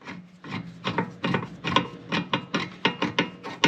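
Ratchet wrench tightening a control arm bolt on a Nissan Altima strut assembly, heard as a steady series of short rasping clicks in quick rhythm, close up and without talk.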